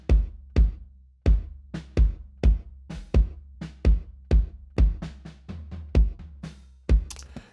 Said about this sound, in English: The acoustic bass drum sounds like this by itself.